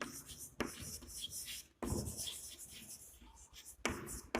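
Pen scratching on paper during a ratio and proportion maths exercise, steady rubbing strokes broken by brief pauses, close and fairly quiet.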